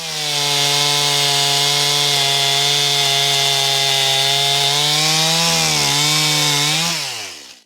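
A chainsaw cuts through windfall wood for firewood, running at a loud, steady high whine close by that dips in pitch near the end as the chain bogs into the cut.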